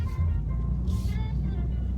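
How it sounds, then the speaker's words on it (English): Interior of an older car being driven, a steady low engine and road rumble filling the background with a brief brighter hiss partway through; a voice talks over it. "driving my new old car"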